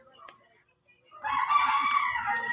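Young backyard chickens, under two months old: after a near-silent second, a loud crow rings out close by and carries on to the end, with faint clucks earlier.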